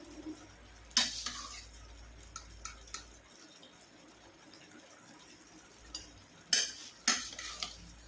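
Dry rice tipped into a metal cooking pot while making a mint and green pea rice dish: two short rattling, scraping bursts close by, with faint stirring clinks between them and no talk.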